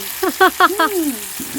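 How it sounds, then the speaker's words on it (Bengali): Crab pieces frying with tomato in a pan, a steady sizzle under a few short squeaky scrapes of a stirring utensil and one drawn-out gliding squeal, close and fairly loud. "কাঁকড়া মাছ ভাজা ভাজা হয়ে গেছে"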